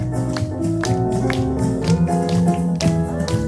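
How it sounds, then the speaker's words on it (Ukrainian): Rhythmic handclaps from an audience keep time over a live singer and instrumental accompaniment at an outdoor garden concert, steady taps running throughout. "трішечки оплесками підтримаємо один одного"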